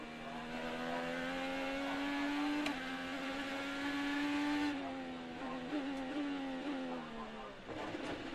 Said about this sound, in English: You hear the engine start to go quiet